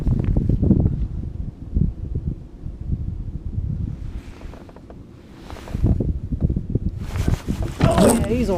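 Gusts of wind buffet the microphone on a fishing boat out on the water, a low rumbling roar that swells and fades, with someone talking over it and a brief rustle near the end.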